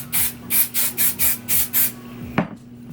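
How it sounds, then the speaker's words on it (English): Seven quick hissing bursts of aerosol hairspray in a steady rhythm, close and loud, followed by a single sharp click. "I'm gonna take the spray, hairspray."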